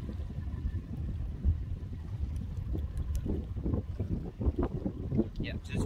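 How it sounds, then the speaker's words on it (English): Big outboard motor on a fishing boat running in reverse into the wind to hold position on a lake, a steady low rumble mixed with gusting wind noise on the microphone. "I'm just using the big motor to put me in reverse into the wind so I can stay in one spot."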